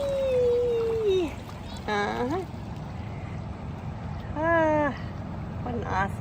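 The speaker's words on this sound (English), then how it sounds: "Coming up towards a little rapids." A kayak moves through small rapids on the Catawba River as a constant wash of moving water runs throughout, with a person whooping and calling out over it.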